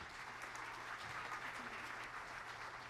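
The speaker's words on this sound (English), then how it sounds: "can you please give them a round of applause?" An audience at a middle school fall choir concert claps steadily throughout, a dense, sustained wash of applause with no break.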